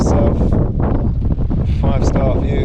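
Strong wind buffets the microphone on an open beach in Lanzarote at sunset, a loud continuous low roar with gusty broadband rushes, steady throughout with no pause.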